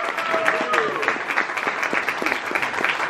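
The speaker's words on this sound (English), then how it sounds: "Applause him," Audience applause at an acoustic concert, a dense, steady wash of many hands clapping that fills the room evenly for about three seconds without pause.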